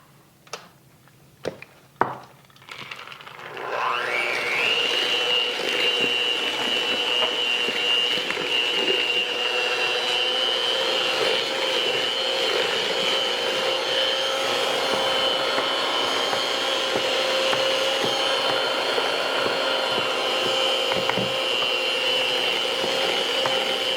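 An electric mixer beats eggs for Mississippi mud cake batter, starting after a few clinks and then holding a steady loud whirring hum close by for the rest of the time.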